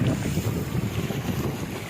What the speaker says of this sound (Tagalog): sakay na kami uli ng bangka